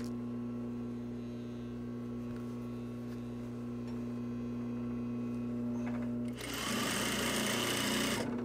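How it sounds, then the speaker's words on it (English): A sewing machine hums at low idle while stitching a reversible jacket seam, then speeds up into a loud, rapid run of stitching near the end, heard close with no voices. "if it seems like you're sewing a tube, you've done it right"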